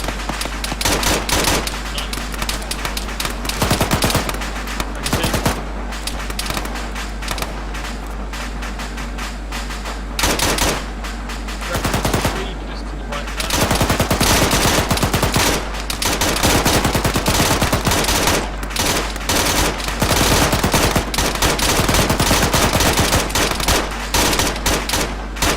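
A belt-fed machine gun firing in a video game: loud, sustained bursts of rapid automatic fire, some long and unbroken, with brief pauses between strings.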